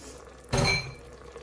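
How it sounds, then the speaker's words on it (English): A spoon gives one short clattering stir of beef and broccoli sauce in an Instant Pot's metal insert, a single clink and scrape that rises sharply and then fades in a quiet kitchen. "Give that a little stir."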